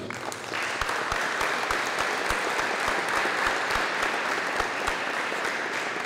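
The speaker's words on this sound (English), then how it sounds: "why don't we give these distinguished Americans a round of applause, please." A round of applause for veterans at a high school honors ceremony, steady crowd clapping throughout with a few louder individual claps standing out nearby.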